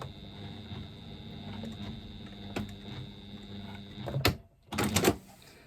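A sewing machine running a basting stitch at 1/8 inch seam allowance on a fabric pouch, a steady mechanical hum with rhythmic needle chatter, followed by a couple of louder clunks near the end.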